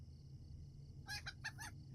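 A chicken clucks in the Lord of the Rings Online game, a few short, bright clucks bunched in the second half over a low, steady background hum.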